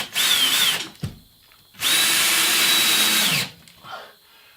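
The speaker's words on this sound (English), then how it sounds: "Put two screws in it to hold it." A power drill drives screws into drywall board fixed to ceiling rafters. A short whine of about a second is followed by a longer steady run of about 1.5 seconds, loud and close, with a faint tail at the end.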